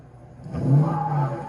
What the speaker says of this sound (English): He ain't shutting that car up, bro.